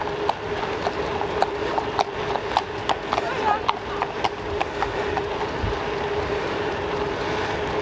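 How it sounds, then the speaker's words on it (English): Steady clip-clop of a ridden horse's hooves on a hard road, a regular rhythm of sharp knocks close by, over a constant background hum and some talk. "Horse on the wrong side of the road, is it?"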